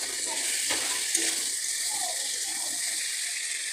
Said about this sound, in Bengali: এটাকে খুব ভালো করে আমি পাঁচ থেকে সাত মিনিট মতো এটাকে কষিয়ে নেব